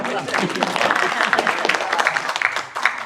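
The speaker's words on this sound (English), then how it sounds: "you can clap" Crowd applause at a Honolulu County GOP political gathering, steady dense clapping filling the room with a few louder cheers and voices rising through it.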